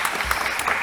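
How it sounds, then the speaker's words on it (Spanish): Brief burst of audience clapping at the close of a journalism panel at an international congress, a scattered, moderately near patter of hands. "bueno, un aplauso"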